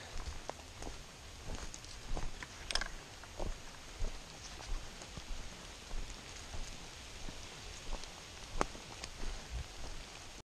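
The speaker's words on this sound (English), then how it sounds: "Oh, it's raining again." Light rain pattering on a forest hiking trail, a steady soft wash with scattered sharper drops and occasional footsteps, fairly quiet and distant-sounding.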